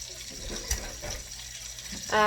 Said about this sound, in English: I'm going to wash my hands over at the sink because I've got egg on them